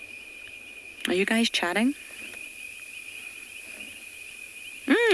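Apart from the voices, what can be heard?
insects chirping at a South African safari reserve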